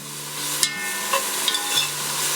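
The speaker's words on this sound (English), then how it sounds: "I want to render this bacon down" Bacon rendering slowly in a pot over moderate heat, giving a steady soft sizzle with a few light clicks and scrapes from stirring, close and unaccompanied by voices.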